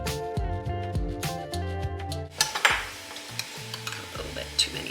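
A chopstick stirs and taps inside a jar of home-canned pantry food packed in cooking liquid, giving a run of light scraping and clinking knocks. Music plays loudly at the start, then the close stirring carries on alone.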